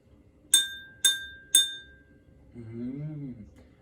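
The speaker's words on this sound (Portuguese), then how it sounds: "Eu vou pegar com cuidado a colher para não quebrar o copo" Three evenly spaced, bright clinks of a spoon tapping a drinking glass, each ringing briefly, followed by a short murmur of voice.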